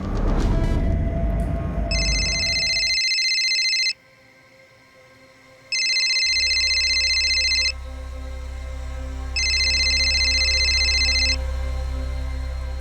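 A telephone rings at night in three long electronic bursts spaced a couple of seconds apart, loud and clear, with a low hum and some background noise underneath.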